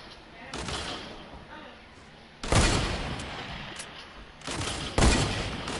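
Assault rifle fire in Fortnite, bursts of sharp gunshots with loud volleys landing in sequence, close and punchy against quieter background game sound.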